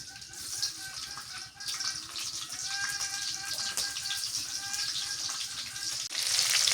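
Garlic and green chillies fry in oil in a Bengali village kitchen, giving a steady crackling sizzle throughout with a few faint bird chirps and tonal background sounds mixed in.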